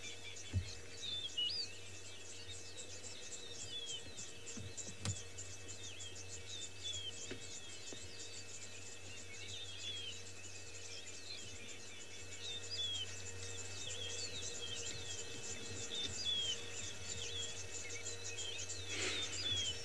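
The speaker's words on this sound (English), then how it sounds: "There is one that you can hear, doo-doo-doo, doo-doo-doo. That is a rufous-napped lark." A rufous-napped lark and other birds call in the Masai Mara, with repeated chirps and whistled notes over a steady insect drone, faint and distant throughout.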